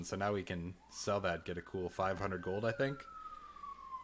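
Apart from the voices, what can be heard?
emergency vehicle siren outside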